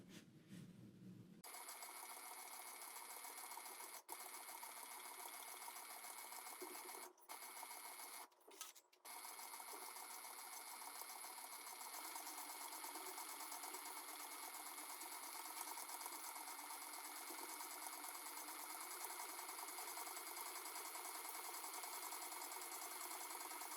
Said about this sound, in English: I'm gonna go ahead and sew all the way around, starting from the middle